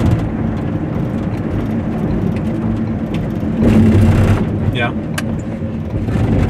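Car rolling from the Ohio Turnpike onto the I-80 interstate after the last toll at Exit 223, a steady road and engine drone from inside the cabin with a brief swell midway while people chat over it.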